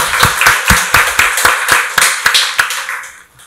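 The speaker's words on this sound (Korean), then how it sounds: "박수로 하나님께 영광 돌리겠습니다" A church congregation claps in unison to give glory to God after a scripture reading, about a dozen loud, rhythmic claps in steady succession that slow and fade out at the end.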